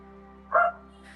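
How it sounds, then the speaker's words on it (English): A dog gives a single short bark, fairly close, cutting through a steady low electrical hum in an otherwise quiet room. "your dog is barking away"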